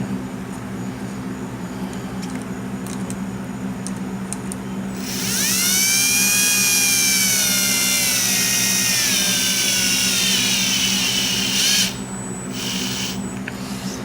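A power tool tightens a fitting on the engine circulation pump of a Bayliner Bowrider 17 boat, a loud whirring whine lasting about six seconds between quieter stretches of clinking.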